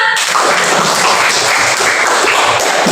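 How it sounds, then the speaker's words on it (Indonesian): A classroom full of students claps together, a dense and steady patter of many hands that starts abruptly and carries on evenly for a few seconds. "Tepuk tangan untuk kita semua."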